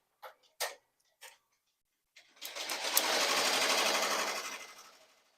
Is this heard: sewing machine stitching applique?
yes